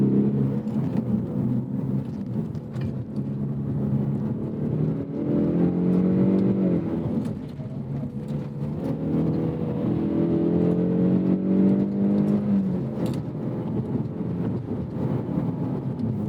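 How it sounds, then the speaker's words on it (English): A turbocharged engine in a 2024 Ford Mustang EcoBoost pulls hard under acceleration, its rising harmonic drone sweeping upward through the gears with wind noise. It is loud and steady throughout, with no talk. "The engine starts dying off as you get close to red line."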